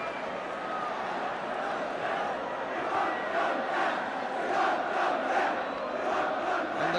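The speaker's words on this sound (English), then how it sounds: "And the cry from the crowd is, we won't go down." A football crowd at a 1976–77 Tottenham Hotspur against Aston Villa match chanting in unison, a broad rhythmic swell of many voices from a distance, sustained across the stadium.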